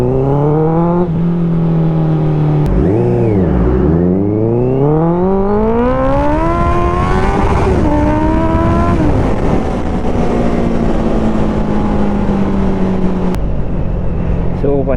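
Honda CBR650F inline-four sport motorcycle revving, its exhaust note rising and falling through several strong pulls that climb in pitch, then settling into a steady high drone; loud and close throughout, with a sharp click near the end.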